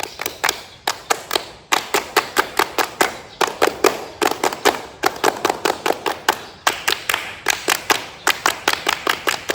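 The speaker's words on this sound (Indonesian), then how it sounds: "Tepuk pramuka." Scout group clapping routine (tepuk pramuka) performed at an Islamic primary school Fahmil Quran event: loud, crisp handclaps in rapid rhythmic bursts separated by brief pauses, repeating steadily throughout with no talking over them.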